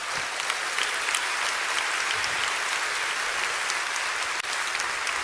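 A church congregation at a Portuguese-language sermon applauds steadily, a dense wash of many hands clapping at an even level for over five seconds with no voices on top.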